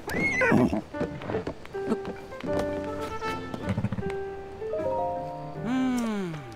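A horse in Zelda: Tears of the Kingdom gives a loud whinny, followed by snorts and plucked, stepping game music notes, then a second rising neigh at the end.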